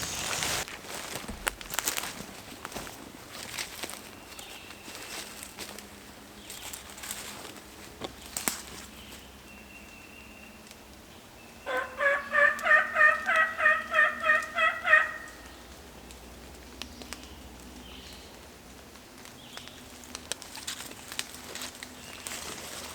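A hen turkey flushing off her nest gobbles and clucks in a quick burst of repeated calls midway, loud and close, amid rustling movement and quiet outdoor ambience on a rainy day.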